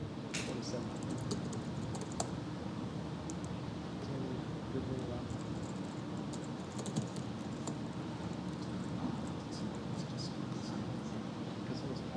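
Someone types an invitation code on a computer keyboard, steady faint key clicks over a continuous low background hum.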